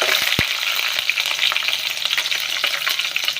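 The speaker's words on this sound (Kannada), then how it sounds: "ಹಾಕ್ಬಿಟ್ಟು ಇದನ್ನು ಸ್ವಲ್ಪ ಟೈಮ್ ಆಯಿಲಲ್ಲೇ ಫ್ರೈ ಆಗಲಿ." Dried red chilies and green chilies fry in hot oil with a loud, steady sizzle that crackles throughout. A few sharper pops break through near the start, and no one speaks.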